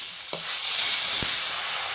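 A spice masala with tomato paste sizzles and hisses steadily in a hot pan while frying for a Bengali parwal curry with egg, close and fairly loud, with a couple of faint soft knocks.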